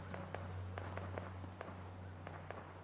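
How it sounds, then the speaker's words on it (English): Faint, scattered pops of distant gunfire in Fallout 4 on PS5, around ten sharp cracks at irregular intervals over a low steady hum. "I can already hear the gunshots."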